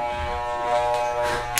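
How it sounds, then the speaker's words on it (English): Electric hair clippers buzz steadily up close during a buzz cut fade, a constant motor drone that holds for under two seconds with a brief clack near the end. "bring the clippers down all the way and introduce the fade"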